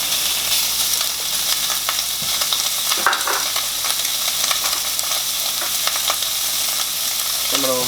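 Bacon sizzles loudly in a hot pan, a dense continuous crackle with occasional sharper pops and scrapes, close and with no talking.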